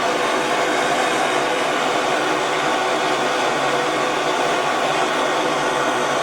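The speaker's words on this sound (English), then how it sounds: "You can see this torch is not really good for melt ups. It takes a long time to get it hot enough to melt." A jewellery torch roars steadily as its flame heats gold for melting, a constant broadband hiss held close and loud throughout with no talk.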